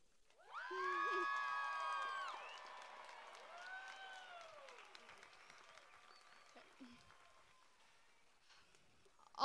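A graduation crowd for the class of 2022 breaks into cheering, whoops and applause that swell quickly, then fade into scattered shouts and clapping, heard at a moderate distance.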